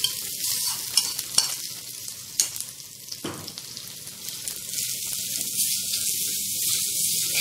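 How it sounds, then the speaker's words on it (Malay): Grated coconut stir-fries in hot oil with pounded spice paste, giving a steady close sizzle with scraping stirs and occasional sharp knocks of the utensil against the pan, no talking. "Sekarang saya masukkan kelapa"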